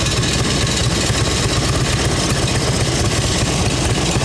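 A 1989 Harley-Davidson Ultra Classic engine idles in a steady, loud, continuous rumble with no pauses or voices over it.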